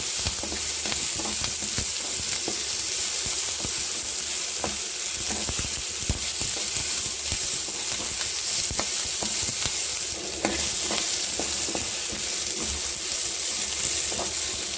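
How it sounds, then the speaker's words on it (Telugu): Tomato pieces fry and sizzle steadily in a pan while upma is being made, with a constant crackling hiss and occasional scraping stirs. "చూడండి టమాటా ముక్కలు ముక్కలు దగ్గరికి వచ్చాయి బాగా ఫ్రై అవుతున్నాయి"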